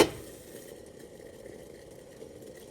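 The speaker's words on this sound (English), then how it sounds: "let it boil for around like a couple minutes, 3 to 4 minutes" Lavender tea water at a low boil in a covered pot, a soft steady bubbling simmer with a faint hum, quiet and continuous after a brief bump at the start.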